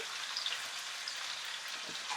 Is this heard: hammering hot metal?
no